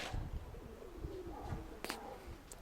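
Pigeon cooing nearby, a soft low rolling coo drawn out over a couple of seconds, with a couple of sharp clicks or flutters toward the end.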